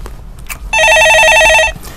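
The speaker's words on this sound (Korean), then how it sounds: "전화 받아보겠습니다" A telephone rings once on a stock-market call-in broadcast: a single loud, close electronic warbling ring of about one second, surrounded by quiet room noise and no speech.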